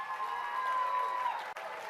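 A large crowd cheers and applauds at the Alberta NDP leadership race victory celebration for Naheed Nenshi: a dense, steady roar of clapping and voices that holds throughout, with a brief dip near the end.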